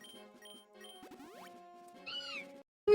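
Cat meow cry from a Pokémon video game, two rising synthetic meows over steady game music, clear and close, with no talking.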